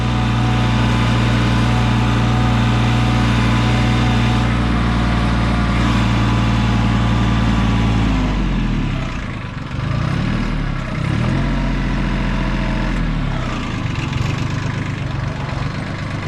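Yanmar 1401D compact tractor engine running with a cultivator attached, a loud, close, steady diesel drone that dips and changes pitch partway through as the load shifts, then keeps on running.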